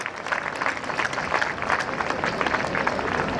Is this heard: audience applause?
yes